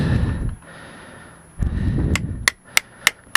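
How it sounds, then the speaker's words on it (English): A bearing is tapped into place on a Kawasaki KLF300 ATV: four sharp, evenly spaced metallic taps ring out near the end, after a stretch of low rustling handling noise. "sometimes bearing might need a little tap, a little love kiss"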